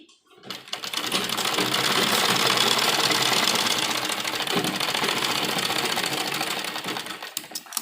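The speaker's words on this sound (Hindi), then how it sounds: "तो देखिए इस तरीके से हमने इसके चारों तरफ कच्ची सिलाई लगा दी है।" A sewing machine runs steadily, basting loose stitches around an embroidered, lined sleeve. It gives a continuous fast mechanical whir and rattle at close range for several seconds, with no talking.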